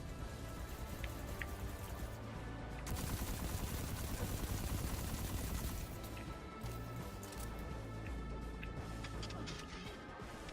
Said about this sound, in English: This assault rifle, wow, cool, tends to go through ammo a lot faster than I'm used to.